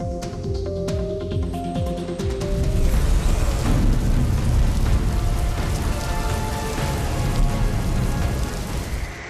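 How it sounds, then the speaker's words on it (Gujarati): Heavy unseasonal summer rain in Ambaji pours down steadily, a dense loud hiss of drops drumming on surfaces, building after a few seconds and continuing without pause. "કેટલાક શહેરોમાં કમોસમી વરસાદે કહેર મચાવ્યો છે"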